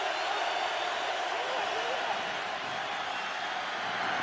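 Dense, steady roar of a stadium crowd at a Steelers home game against the Titans, building on third down; a continuous wash of cheering and noise with no distinct breaks, heard at a distance.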